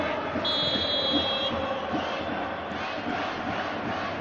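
Japanese supporters in a stadium at a Japan versus Serbia football match, producing a sustained crowd roar and chanting, with a short whistle-like tone early on over the steady din.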